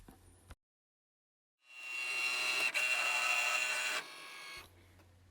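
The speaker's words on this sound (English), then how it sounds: "Next, I cut everything out on my machine." A vinyl cutting machine runs through a sheet of scrap vinyl: a steady whirring, buzzing motor drone of about two and a half seconds, close and fairly loud, with a brief click partway through and quieter mechanical noise before and after.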